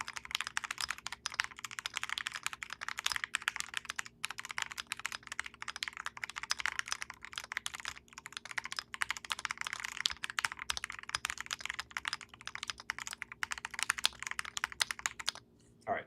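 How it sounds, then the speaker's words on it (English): Fast, continuous clacking of keys on a mechanical keyboard with brown switches, steady and close, with a brief pause near the end. "So let's do a quick typing test."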